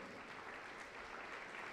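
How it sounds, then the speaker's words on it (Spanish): Congregation applause at a Pentecostal church service, a dense, steady wash of many hands clapping at once, continuous and fairly even throughout. "Aplauso para Cristo Jesús."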